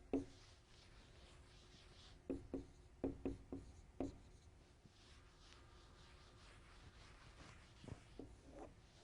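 Numbers being written on a classroom board during a decimals lesson, quiet scratchy strokes in short bursts with pauses between, no talking.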